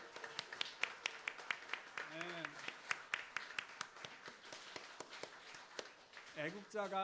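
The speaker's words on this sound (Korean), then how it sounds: "우리 박수로 한번 축복하겠습니다" Church congregation clapping rhythmically as a blessing during a Sunday service, steady sharp claps in a regular beat with voices speaking over them.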